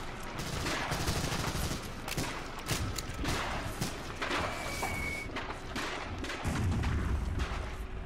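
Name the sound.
MG42 machine gun fire from the video game Medal of Honor: Allied Assault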